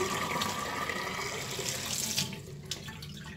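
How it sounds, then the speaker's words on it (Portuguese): Tap water runs steadily into a watering can for fertilizing balcony potted plants, a continuous close rushing splash with no talking. "vou encher o regador com a água"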